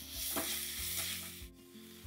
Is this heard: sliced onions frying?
yes